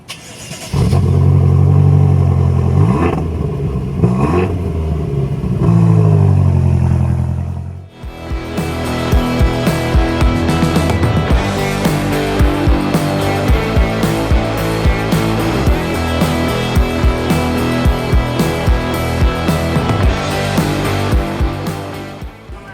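A car starts off with a steady engine hum. It then drives on under loud, continuous music that fills most of the stretch, with no talking, heading to a Wendy's drive-thru.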